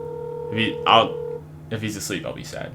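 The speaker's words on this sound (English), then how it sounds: "Just sitting there, just dial tone." A steady telephone dial tone hums for over a second, then a voice talks over the line as the call goes unanswered.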